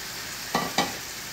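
Bhola fish fries in a pan, a quiet steady sizzle with two brief stirring or settling scrapes close up and no talking.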